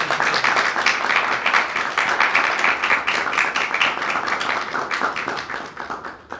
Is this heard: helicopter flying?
no